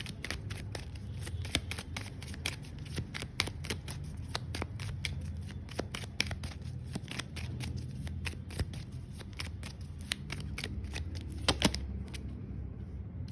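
Tarot cards being shuffled, a steady rapid patter of crisp riffling clicks close up that runs for many seconds before stopping, with no speech.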